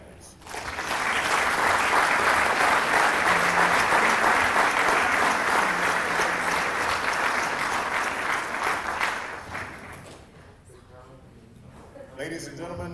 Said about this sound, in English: please join me in a round of applause for all of our retirees and their families